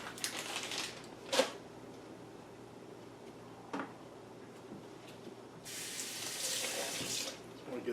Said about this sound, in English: Gonna dump the water off.